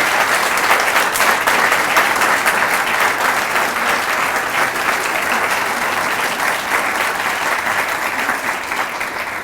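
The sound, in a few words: audience round of applause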